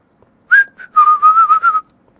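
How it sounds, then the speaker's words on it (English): A person whistling a short, wavering tune: one brief note, a tiny blip, then a longer trembling tone in quick pulses, close and clear against silence. "Oh, I can't even whistle."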